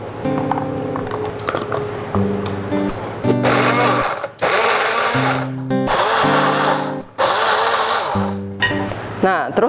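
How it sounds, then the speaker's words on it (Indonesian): A small blender grinds garlic and chili into a spice paste in short repeated bursts of loud whirring and rattling, separated by brief pauses. A person talks in the gaps and between pulses. "ini cocok banget kalau buat yang mau blender bumbu dikit-dikit tuh ya"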